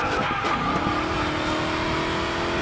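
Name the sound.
Dodge car racing and skidding in video game Racing Master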